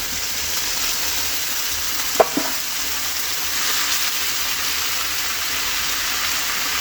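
Okra and green chilies frying together in a pan, a constant loud sizzle with a couple of brief clinks or stirring knocks, no one speaking.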